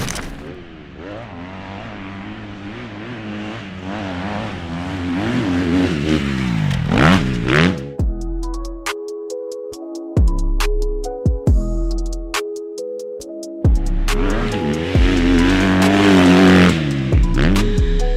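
A 2025 Kawasaki KX250 dirt bike engine revs hard and loud, with rising and falling pitch sweeps, sharp throttle blips and idle stretches between bursts, close to the bike, with no voices.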